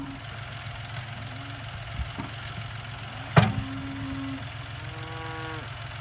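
A John Deere tractor pulls a disk harrow through a big garden, its engine a steady low drone throughout with a brief louder clank near the middle.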